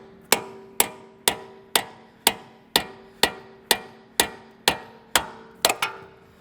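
A big hammer pounds a corroded suspension part on a vehicle, about a dozen loud metallic strikes at a steady, even pace, each ringing briefly, with a quick double hit near the end.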